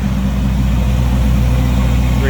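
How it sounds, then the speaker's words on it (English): A 1939 Oldsmobile Series 60 sedan's 350 V8 with an Edelbrock carburetor idling, a steady, deep, even rumble heard close and loud with no change in pace. "smooth running, good sounding engine"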